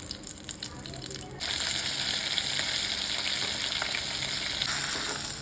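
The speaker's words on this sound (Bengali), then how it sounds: "এভাবেই আমি সমস্ত মাছগুলো ভেজে নেব" Pabda fish fry in mustard oil in a wok: a dense, continuous hissing sizzle that jumps louder after the first second and stays strong and close, with small pops and crackles.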